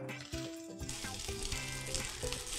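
Fried rice and tomatoes crackle and sizzle in a hot wok while being stirred, loud and close, with the texture shifting as ingredients are tossed; no voices.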